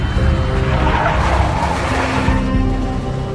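Tires on a big black Mercedes squeal and skid in the video game Max Payne, a loud, sustained screech over a low engine rumble that keeps going for several seconds, with no voices.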